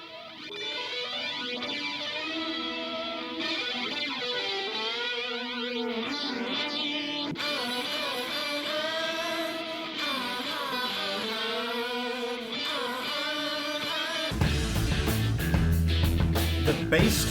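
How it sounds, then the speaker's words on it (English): Rock guitar and bass playing the same riff together in close unison, steady and fairly loud, with a sharp shift in texture near the end. "The guitar and the bass matching each other there, that's great."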